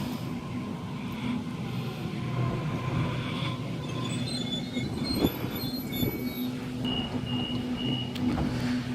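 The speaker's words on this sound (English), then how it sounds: "Another Waratah approaching platform number 2 Hornsby service, A61." A Series 1 Waratah electric train pulls in at platform 2, a steady rolling rumble with low hum, faint wheel squeal and brief clanks building and easing over several seconds.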